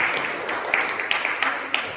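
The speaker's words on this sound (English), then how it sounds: "A round of applause, please." A church congregation at a Mothering Sunday family service at St Mary's, Gainford, gives light applause. Scattered individual claps stand out over a soft, steady patter for about two seconds.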